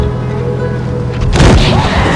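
A single heavy tank cannon blast from the World of Tanks Blitz game, a sudden loud boom after a steady engine hum, followed by a short rumbling decay.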